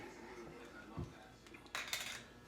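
Pans and utensils clatter and clink while being cleaned up after smoking a Boston butt, a few scattered knocks and a brighter metallic rattle near the end, fairly faint and close.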